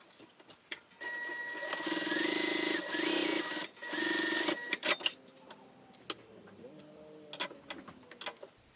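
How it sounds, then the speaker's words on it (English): Sewing machine topstitching along the curved edge of a mini tote bag, several short bursts of rapid mechanical stitching with pauses and small clicks between them, fairly quiet and close. "Now I'm going to top stitch along this curved edge at 1/8 of an inch seam allowance."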